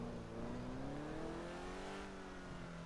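A car engine in a video game revs steadily, its pitch climbing and then easing off, with a constant game-like motor drone and no talking.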